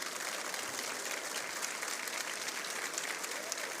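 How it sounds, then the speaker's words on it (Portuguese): Women in a church congregation applaud in a continuous, even roar of many hands, heard from some distance and fairly faint. "as mulheres que estão aplaudindo"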